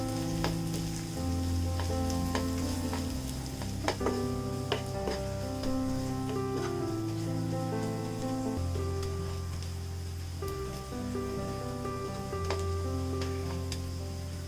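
Ground spice powders frying and being stirred in a pan while cooking Kerala-style beef ularthiyathu, a steady continuous sizzle running throughout, heard under sustained tonal background sounds.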